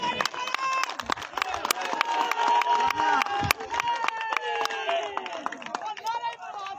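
Crowd at a village cricket match applauds and cheers in a dense, sustained wash, with scattered sharp claps and shouts mixed with an announcer's voice talking over it.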